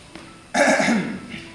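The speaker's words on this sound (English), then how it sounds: "When one is dictating, one should speak fluently and not cough." A single man's cough during a stage reading of a comedy play, a short harsh throat-clearing burst after a faint quiet lead-in, close and fairly loud, with no talking.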